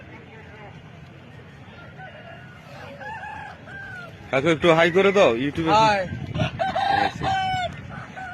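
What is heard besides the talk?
chickens clucking and rooster crowing at a market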